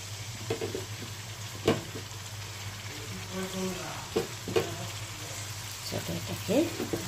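Marinated mutton being tipped into a pan with onions, sizzling and frying in a steady crackle with stirring scrapes and a few clanks, close by, with someone talking over it now and then.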